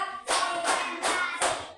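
Children clap hands together in a counted rhythm during a classroom focus routine, four loud broadband claps spaced evenly about every 0.4 seconds, close and clear with no talk.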